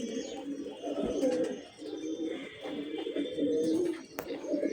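Rain-wet Giribaj pigeons coo close by in overlapping rolling phrases, a steady low burbling with short pauses and a few faint chirps, no voices present.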